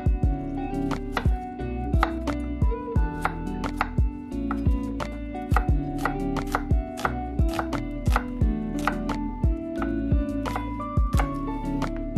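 Knife chopping vegetables on a cutting board while preparing broth for vegan Mongolian milk tea dumplings: steady, close, fairly loud chops in an irregular rhythm, sounding alone with no talk.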